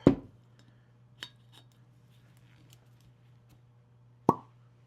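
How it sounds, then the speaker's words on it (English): A cork pulls from a Bomberger's Deceleration 2025 bourbon bottle with a sharp pop at the start, followed by a few faint clinks and taps and a second sharp pop near the end, with no voices. "let's crack this sucker open and hear that cork pop"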